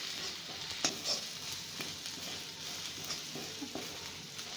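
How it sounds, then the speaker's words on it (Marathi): Ginger garlic paste being sautéed with browned onions in a pan for pav bhaji: a soft, steady sizzle with occasional stirring scrapes and clicks, moderately close and alone. "आणि हे अद्रक लसूणचा उग्रवास जाईपर्यंत परतून घ्यायचं"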